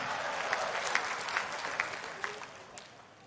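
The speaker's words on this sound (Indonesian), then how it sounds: "Tepuk tangan buat Indonesia" A crowd claps steadily for a few seconds, the applause dense and even, with a few sharper individual claps standing out.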